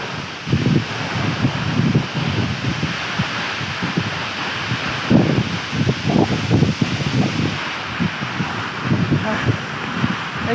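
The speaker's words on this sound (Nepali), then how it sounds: "अहिले हावाले हल्दै रहेछ" Wind gusts across an outdoor zipline site near a waterfall in Lamjung, Nepal, a steady rushing hiss with rumbling low buffets hitting the microphone throughout.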